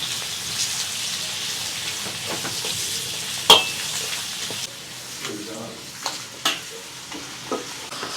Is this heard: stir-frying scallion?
yes